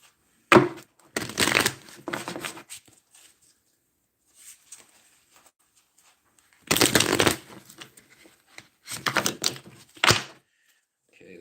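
Tarot cards being shuffled by hand in three close, loud riffling bursts separated by quiet pauses, with light taps and shuffles of the deck in between.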